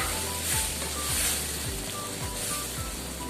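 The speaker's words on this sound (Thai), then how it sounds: "แล้วก็ผัดให้ต้นหอมพอยุบตัวพอนะจ๊ะ" Clams and scallions are stir-fried in a pan, a steady close sizzle with occasional stirring scrapes over a low background hum, and nobody speaks.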